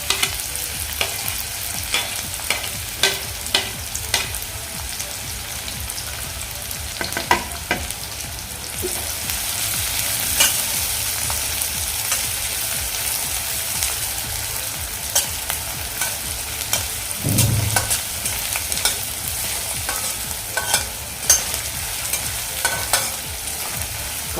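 Chopped onion and curry leaves fry in hot oil with popped mustard seeds, sizzling steadily up close while a spoon scrapes and stirs through the pan in irregular knocks and scuffs, with no voice.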